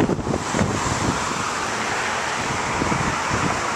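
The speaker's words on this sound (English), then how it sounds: "Oh boy, that's some good wind right there." Strong, turbulent wind blowing outdoors beside a small home wind turbine on a windy day, a steady loud broadband rush with gusty buffeting against the microphone, unbroken throughout and without talk.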